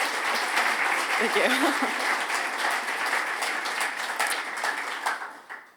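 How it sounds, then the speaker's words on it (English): An audience applauds steadily for a talk speaker, the dense clapping sustained throughout and fading at the end, with a brief spoken thanks over it. "could I get a second round of applause"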